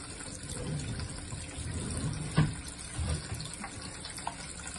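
Water runs from a kitchen tap while chicken feet are washed, a soft steady trickle with one brief splash midway, fairly faint and alone.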